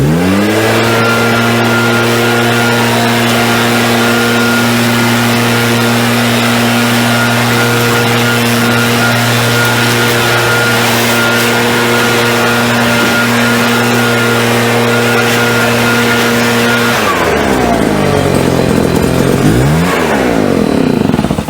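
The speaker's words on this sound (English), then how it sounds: "so I'll go and blow off the mower." A blower blasts debris off a lawn mower with a loud, steady, humming engine drone that holds for a long stretch. Its pitch then wavers and drops toward the end.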